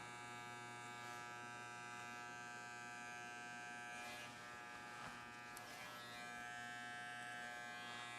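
An electric hair clipper trims the fuzz on the back of a man's neck during a short haircut, giving a steady, close, unbroken buzz with a slight rasp in the middle. No voices.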